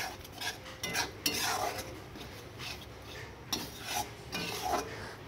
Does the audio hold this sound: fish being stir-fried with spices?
yes